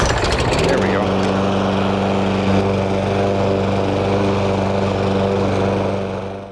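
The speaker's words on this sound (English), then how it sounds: "So I am the battery here for this particular mower, and give it a pull or two." A pull-started walk-behind lawn mower with a bag attached catches after a short cranking rattle and settles into a loud, steady engine drone close by, running continuously to the end.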